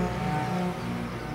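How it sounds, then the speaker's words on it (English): A tractor engine drones steadily and fairly loud as it drives past on a rural road, with a continuous rumbling tone. "It is the same f***ing tractor. He's coming back around again."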